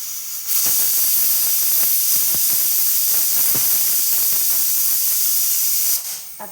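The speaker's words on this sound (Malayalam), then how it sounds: "ഇപ്പോൾ വിസിൽ വന്നുകൊണ്ടിരിക്കുന്നുണ്ട്" A pressure cooker cooking fenugreek rice porridge releases a loud, steady hiss of escaping steam, close by, lasting several seconds before cutting off.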